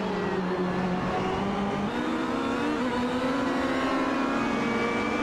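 A race car runs around a racetrack, its engine a steady sustained drone with shifting pitch, heard from a distance at moderate level with no voices.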